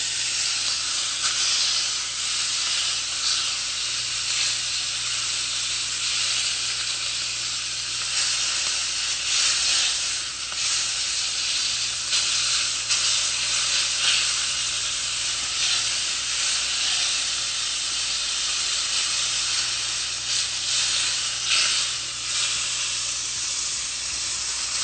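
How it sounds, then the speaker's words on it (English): Steak searing in a hot pan, a loud, steady sizzle and hiss that runs without pause, with faint stirring and spitting bursts along the way. "Make sure we get these"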